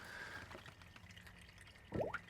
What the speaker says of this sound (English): you're gonna see how it's dripping oil still